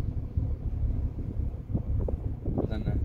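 Wind buffets the microphone outdoors on grass, a loud continuous low rumble with gusting swells, while someone talks over it.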